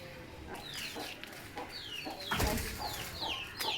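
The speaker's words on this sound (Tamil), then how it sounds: "அது நம்மள்கிட்ட இருக்க ஒயிட்டு கோழி" A white chicken clucks repeatedly nearby, with other bird chirps and a louder squawk midway, no talking.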